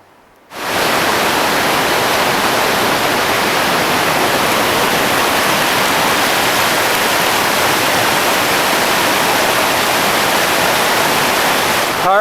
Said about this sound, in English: as you can see, the beautiful waterfalls behind me